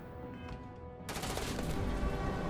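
Rapid gunfire erupts suddenly in the video game Starfield after a quiet moment, a dense, continuous burst of shots that keeps going to the end.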